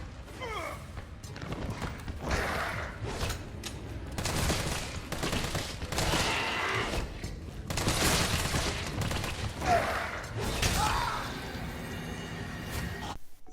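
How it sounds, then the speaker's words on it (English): In the Resident Evil 3 Remake game, an assault rifle fires a long automatic burst at a hunter creature, dense rattling volleys at moderate level with brief pauses and impact clatter, no voices. "I have just fired 2 full magazines of assault rifle ammo into this thing"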